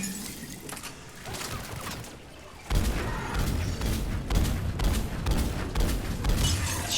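Heavy gunfire from a weapon in Mass Effect 3, a sudden loud burst of repeated booming shots with crackling impacts following a quieter stretch of game ambience.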